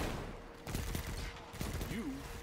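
SMG fire in the video game Hunt: Showdown comes as quiet, rapid bursts of shots in two clusters, with a brief voice between them.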